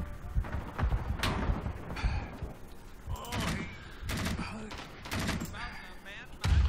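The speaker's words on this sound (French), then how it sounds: "Qui me tire dessus?" Gunfire in the Vietnam War shooter Rising Storm 2: Vietnam, scattered sharp shots and bursts with mechanical clanks, while a player talks in French between the shots.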